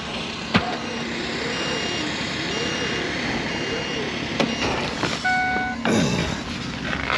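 A truck engine cranks and tries to start at minus 40 degrees, a sluggish cranking whine with a wavering drone, sharp clicks and a brief beeping near the end.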